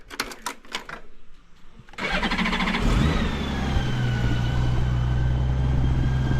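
A Honda Gold Wing motorcycle engine cranks and fires after a couple of seconds of quieter handling noise, then settles into a steady, loud, close idle with a faint whine running through it.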